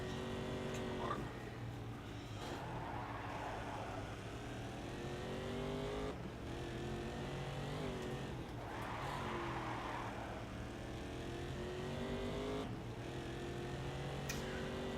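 Race car engine in the racing video game GRiD, a steady loud droning roar that rises and falls in pitch as the car accelerates and lifts, with faint tire noise and no talk.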